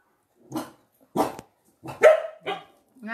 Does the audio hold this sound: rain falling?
no